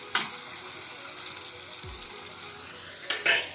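Chopped onion dropped into hot oil over cumin seeds for a Bengali fish curry, a steady bright sizzle with a couple of sharper crackles and stir noises near the start and end, close and with no talking.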